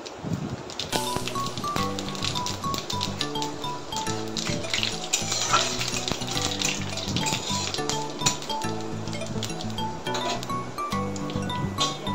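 Bay leaf and dried red chillies sizzling in hot oil as a tempering for sour dal, a steady frying hiss with clinks of utensils against the pan, under loud continuous background music.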